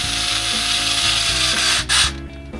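A ratcheting driver tightens screws on holster hardware, giving a fast, even ratchet clicking close up that runs steadily, with a brief scrape and pause near the end.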